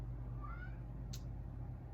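A domestic cat meows loudly for food indoors, one short rising cry over a steady low household hum.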